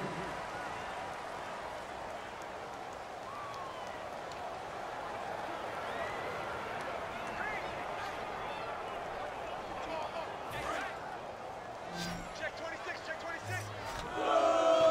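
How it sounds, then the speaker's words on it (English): A virtual stadium crowd in an American football video game, Carolina Panthers versus Atlanta Falcons, gives off a sustained, distant wash of booing and murmur, with a few thumps and a swell near the end. "Crowd is just going on the boo side for the Falcons."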